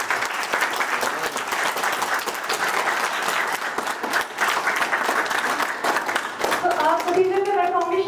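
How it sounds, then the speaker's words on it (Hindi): An audience at a felicitation ceremony for participants of the 38th National Games claps loudly and steadily for several seconds, the dense applause thinning near the end as a voice begins speaking over it. "उनके लिए प्लीज़ एक बार जोरदार तालियां।"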